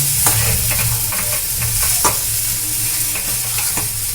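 Chickpea paste for kochuri filling is stirred and fried in oil over medium heat, giving a loud continuous sizzle broken by repeated scraping strokes of the spatula.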